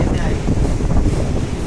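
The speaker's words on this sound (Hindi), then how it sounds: "बहुत खतरनाक बारिश हो रही है भाई, बिल्कुल हवा के साथ।" Heavy rain driven by a windstorm in Karachi roars as a dense, loud wash of wind and rainfall, with strong gusts buffeting the microphone and a voice talking faintly underneath.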